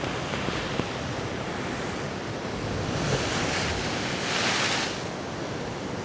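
Sea waves rolling onto the shore at Costa de la Calma, Mallorca, a steady broad wash of surf with some wind noise, swelling a little louder toward the end and heard alone without voices.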